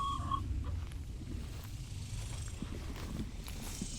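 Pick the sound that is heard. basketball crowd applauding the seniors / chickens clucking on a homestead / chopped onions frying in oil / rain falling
chickens clucking on a homestead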